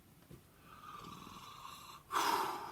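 A voice imitates snoring in bed, giving a low rasping inhale followed by a louder, harsher snort near the end, close and alone.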